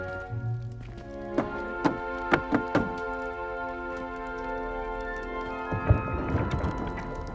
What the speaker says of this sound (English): You must tap the barrel, 2 from the bottom, middle of the second row, in the rhythm of Helga Hufflepuff.